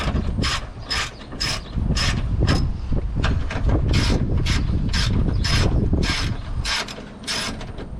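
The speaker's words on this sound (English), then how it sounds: "Next step is undo these right here with the 10mm also." A ratchet wrench loosening 10mm bolts on the starter of a Lexus ES330, with rapid clicking bursts repeating in a steady rhythm, loud and close with no speech.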